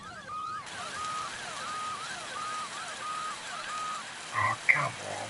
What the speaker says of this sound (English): I hate that siren sound though, it's so annoying.